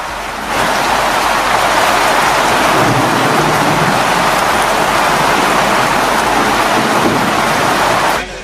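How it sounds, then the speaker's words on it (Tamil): Moderate rain with thunder falls over the Senbaganur and lake road areas. A steady, loud hiss of rain starts abruptly and runs to the end, with deep rumbles of thunder underneath and no voices. "இடியுடன் கூடிய மிதமான மழை பெய்தது"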